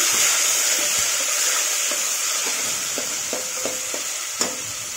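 Tomatoes fry in a pan with a spice paste, a continuous close hiss of sizzling oil broken by light rhythmic stirring clicks and one sharper knock near the end, with no voices.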